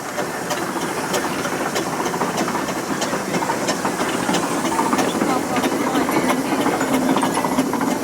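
A showman's steam engine at a heritage museum steam event gives off a steady, continuous hiss of escaping steam with faint rhythmic pulses, loud and close, with a person speaking over it.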